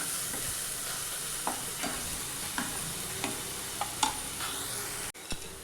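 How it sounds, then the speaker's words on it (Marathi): Masala sautéed in oil for a spiced potato dish, a steady soft frying hiss with several short scraping stirs spaced a second or so apart, then a brief break near the end. "हे तेलातच सगळं आपल्याला हा मसाला झाकून 2-3 मिनटं चांगला परतून घ्यायचा."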